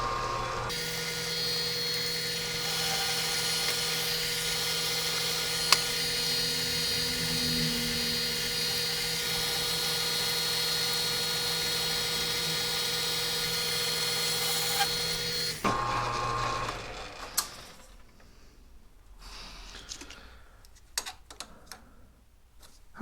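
A machine tool takes a light skim pass on a homemade bead roller die for a 1949 Plymouth toe board panel, a steady whining drone for about fifteen seconds, then it stops and scattered clicks and shop noises follow.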